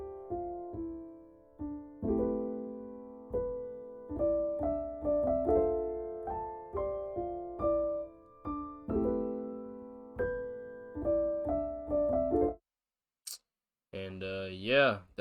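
Simplified plugg piano melody chords programmed in FL Studio, a soft chord pattern with a stepping melody on top that plays steadily, then stops abruptly with a brief cut and short blip.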